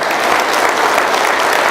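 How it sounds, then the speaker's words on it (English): A conference audience at a national franchise event in Las Vegas gives a round of applause, thick continuous clapping from many hands, loud and close throughout the short stretch. "You guys should give yourselves a round of applause"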